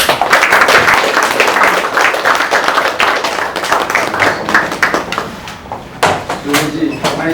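A business networking group applauds a life membership certificate presentation, a loud close burst of clapping that thins into scattered claps toward the end.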